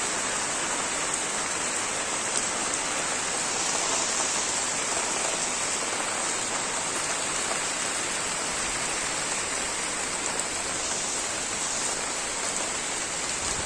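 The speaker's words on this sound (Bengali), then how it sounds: "ঝুম বৃষ্টি হচ্ছে, ঝুম বৃষ্টি।" Heavy, steady downpour in a Bangladeshi village, a dense continuous hiss of rain filling the whole stretch at an even, close, loud level with no voices.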